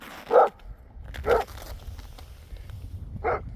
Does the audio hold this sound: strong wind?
no